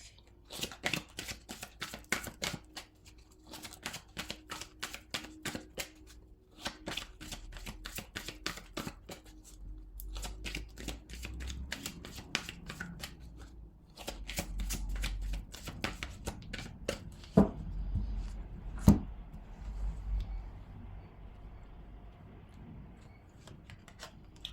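Tarot cards are shuffled close up in rapid bursts of crisp riffling and flicking, pausing briefly between rounds and continuing steadily for a long stretch without talk.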